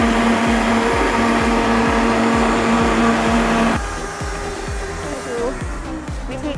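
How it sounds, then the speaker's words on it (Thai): Blenders whir at a drink shop in Kantharalak, Sisaket, a loud, steady motor drone with a rhythmic pulsing churn that drops in pitch partway through as the load changes; a voice talks over it. "เครื่องปั่นก็เครื่องเดียวไม่พอนะคะต้องมีถึง3เครื่องกันเลยทีเดียว"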